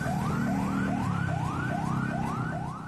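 Fire engine sirens wail in repeated rising sweeps at a building fire in Jakarta, loud and steady over a low rumbling engine, with no talk.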